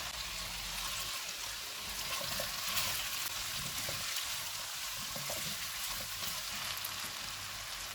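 Ginger garlic paste frying in a karahi for aloo karahi, a soft continuous hiss of sizzling oil with faint crackles, quiet and steady, no voices.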